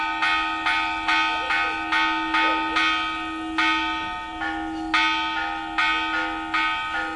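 Church bells ring in a steady repeated pattern, each clear metallic strike ringing out and decaying before the next, loud and alone.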